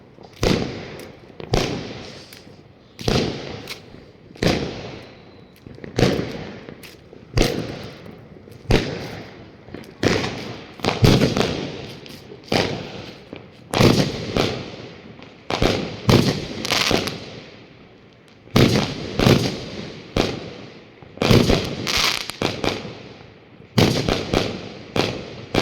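New Year's Eve fireworks and firecrackers in China: a dense, loud barrage of sharp bangs and crackling bursts repeating irregularly throughout, some rapid clusters and echoing booms, with no talking.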